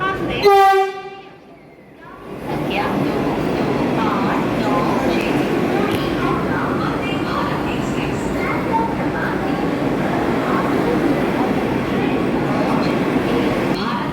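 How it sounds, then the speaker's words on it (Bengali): The Puri–Howrah Vande Bharat Express pulls into Bhubaneswar station, a loud horn blast with stacked tones opening the scene, then a steady roar of the moving train and station bustle with voices throughout. "ভুবনেশ্বরে সে পুরী হাওড়া বন্দে ভারত এক্সপ্রেসের দেখা পাচ্ছি, সে ঢুকছে"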